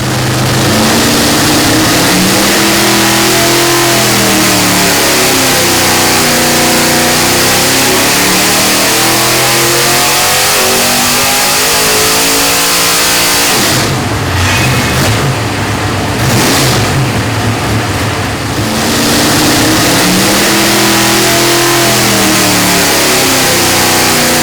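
Methanol-burning dirt modified race engine, running a 750 CFM carburetor body on an 850 carb base plate, revs hard and loud in repeated rising and falling sweeps, with a brief raspier burst near the middle.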